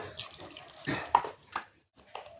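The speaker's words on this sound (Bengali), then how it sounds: "একটু জল দিয়ে দিলাম" Water poured into a mixer jar holding onion, garlic and green chilli for spice paste, short splashy pours and trickles in a few bursts with brief pauses, close and quiet.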